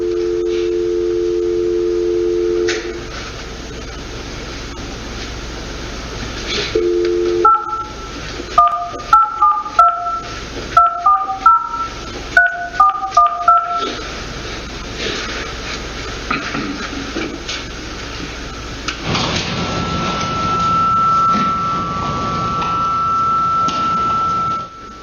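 A telephone line after a dropped call during a hearing: a steady dial tone, then a quick run of touch-tone dialing beeps, followed by line hiss and a high ringback-like tone, with no one speaking.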